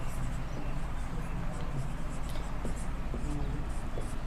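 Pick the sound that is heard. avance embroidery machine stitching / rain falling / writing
writing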